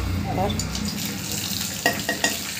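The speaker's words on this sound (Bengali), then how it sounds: "দারচিনি দিয়ে এগুলো ভাজা হয়ে গেছে" Whole spices (dried red chillies, bay leaf, panch phoron, cardamom, cloves, black pepper and cinnamon) fry in oil in a wok with a continuous close sizzle, a brief word spoken early, then a few sharp stirring knocks.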